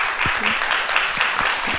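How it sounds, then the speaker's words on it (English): Audience applause at an ISKCON Hindu temple gathering honoring a guest speaker, steady dense clapping throughout with faint voices mixed underneath. "Let's give a big round of applause to Her Grace Shraddha Mataji"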